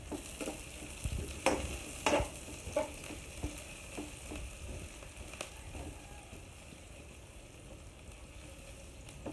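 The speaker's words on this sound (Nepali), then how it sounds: "म अघि काटेर अदुवा र लसुनलाई पहिला चाहिँ पकाउँछु" Chopped ginger and garlic fry in hot oil in a pan for vegetable chow mein, a steady close sizzle broken by several sharp scraping stirs and clinks early on, no talk.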